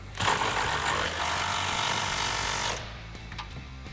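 An impact wrench or power tool tightening the bolts of a 2.25-inch ReadyLIFT front leveling kit with control arms on a 2014-2018 Chevrolet Silverado or GMC Sierra gives one loud, close, continuous rattling burst of nearly three seconds, then stops, leaving quiet shop noise.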